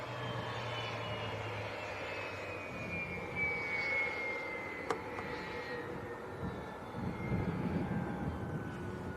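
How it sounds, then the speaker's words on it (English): A small private jet taxis close by at Leeds Bradford Airport, a loud steady engine whine and roar with shifting high tones that holds for the whole stretch, no talk over it. "they're actually quite noisy, these little private jets, when you get up close"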